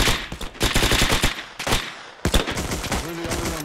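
An MG-42 machine gun in Hell Let Loose rips out several long, rapid bursts of fire, loud and close, separated by short pauses.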